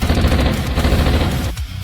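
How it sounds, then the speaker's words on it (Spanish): An automatic rifle empties its whole magazine in one loud, dense burst of rapid shots. The firing hammers on without pause, then cuts off near the end into a brief, heavy tail. "Los disparos destrozaron la masa de carne"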